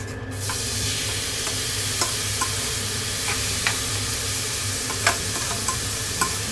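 Ground spices sautéing in cooking oil, a steady close sizzle with a low hum beneath and sparse sharp utensil clicks.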